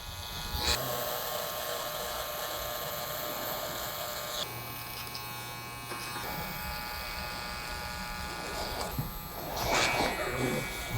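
Electric hair clippers with fine teeth hum steadily and up close through a short back and sides haircut, their buzz shifting in pitch as they taper around the ears, with a louder pass near the end.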